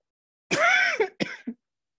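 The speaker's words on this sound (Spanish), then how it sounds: "Perdón, tengo un poquito de tos." A single close, rough cough followed by a couple of short throat-clearing hacks, with silence around them.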